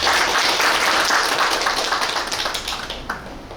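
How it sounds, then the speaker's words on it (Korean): Dense, steady applause from the audience at a forum on ecotourism and Palgongsan's upgrade to national park status, loud and sustained, then thinning and fading toward the end with a few last claps. "박수로 시작하겠습니다."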